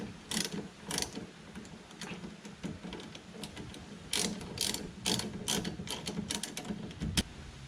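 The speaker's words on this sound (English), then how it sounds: "Now this bottom one, we can go ahead and use a ratchet." A hand ratchet clicks in quick bursts of pawl ticks while loosening the lower brake caliper bolt on the rear brakes of a Nissan Rogue, close and crisp over a low garage hum, with short pauses between strokes.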